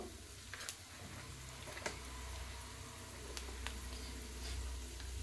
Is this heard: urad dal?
yes